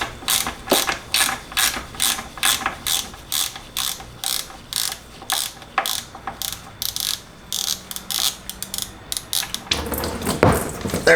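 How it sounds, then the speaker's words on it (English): A ratchet clicks in quick, evenly spaced bursts while loosening the oil drain plug on a 2001 BMW E46, close and crisp with short pauses between strokes, then a heavier clatter at the end. "let's go to loosening the drain plug down there and letting all that come through"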